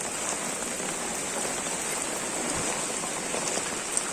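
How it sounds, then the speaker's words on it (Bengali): Heavy rain falls steadily during a Mumbai flood, a dense, even patter on surfaces that stays constant throughout, with no voices. "দুই চার দিন ধরে এত বৃষ্টি হচ্ছে"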